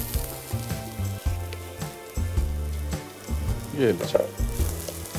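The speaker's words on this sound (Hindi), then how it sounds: "यहाँ पर ये ऑयल हो गया गरम, प्याज हो गई चॉप। अब ये जाएगा सारा का सारा प्याज" Chopped onion hits hot oil and sizzles loudly, with a brief burst of stronger frying in the middle, over steady background music and a short spoken phrase.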